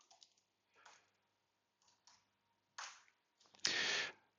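Typing on a computer keyboard in a few short bursts, soft clicks separated by pauses, ending in a louder, denser run of keystrokes; no talking.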